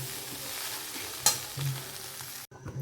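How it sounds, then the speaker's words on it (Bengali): Masala chowmein being stirred in a frying pan, with a steady low sizzle and a sharp scrape of the spatula partway through, then a brief break before the stirring carries on. "এইভাবে বেশ কিছুক্ষণ এইভাবে নাড়িয়ে নেব, নাড়িয়ে নিলেই চাউমিন রেডি।"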